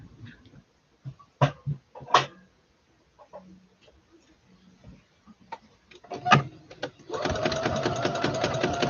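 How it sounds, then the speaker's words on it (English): A sewing machine stitches over an existing seam on a memory bear, opening with short, scattered bursts of clatter and then settling into a steady, fast mechanical whir near the end. "I'm just stitching over the stitch that I had already on here. So I'm stitching over the seam I already had."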